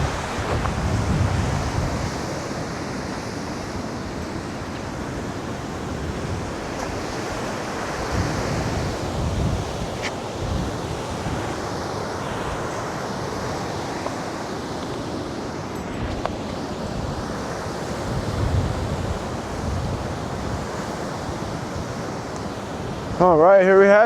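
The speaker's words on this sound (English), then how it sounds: "we can actually walk out on the beach. There's a beach today. If the tide was higher, all this would be underwater." Ocean waves and steady wind roar on the beach at the end of Geary Street in San Francisco, a continuous broadband wash with gusty rumble and no talk.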